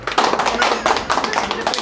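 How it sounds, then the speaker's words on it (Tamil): An audience at a Women's Day event at a Tamil tailoring training centre claps, a dense, lively burst of close hand claps that keeps going through the whole moment. "ஒரு கைத்தட்ட மாட்டிங்களா"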